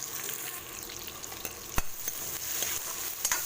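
Tomatoes sizzle in a hot pan while a spoon stirs them, soft steady frying hiss punctuated by a few distinct scrapes and knocks against the pan, close and without talk.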